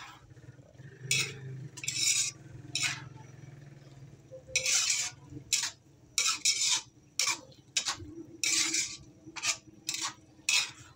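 A spoon scrapes and knocks against a pot while ginataang puso ng saging, banana blossom in coconut milk, is stirred. Short clinking strokes come in an irregular rhythm, close and fairly loud, over a low simmering hum.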